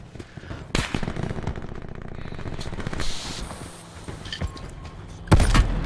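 Rapid automatic gunfire in a Call of Duty match, loud and sustained bursts with a couple of sharper, heavier shots near the start and end, mixed with game effects.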